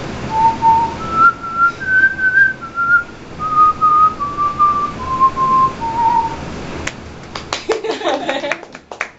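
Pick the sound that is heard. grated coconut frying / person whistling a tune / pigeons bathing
person whistling a tune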